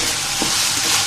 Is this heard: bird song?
no